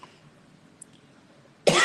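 A single sharp cough bursts out loud and close at the end, after near silence.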